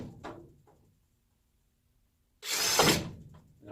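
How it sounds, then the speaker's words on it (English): A short burst of a power drill spinning up around the midpoint, loud and close, with faint tool handling before and a brief start of another burst at the end. "Just going to get started by drilling a few holes."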